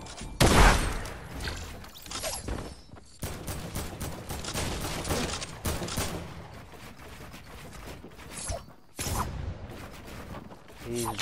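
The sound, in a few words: Deagle gunshots in Fortnite video game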